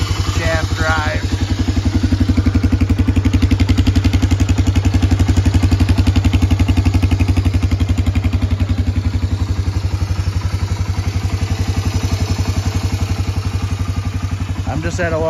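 Honda TRX250 ATV with a 250cc four-stroke engine and shaft drive idling close by, a steady loud low thumping putter holding for the whole stretch, with brief voice-like sounds near the start and end.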